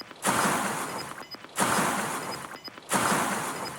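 Moving through water in the Warzone video game, three broad splashing whooshes at even intervals, each swelling quickly and trailing off, close with no voices.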